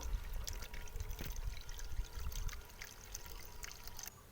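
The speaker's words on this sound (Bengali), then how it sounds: "এই জলটাকে আমি কিন্তু এবারে এই ছাঁকুনি দিয়ে ছেঁকে নেব" Neem-soaked water is poured through a kitchen strainer on a rooftop: a soft, continuous trickle and splash with faint dribbling that tapers off near the end, quiet and close.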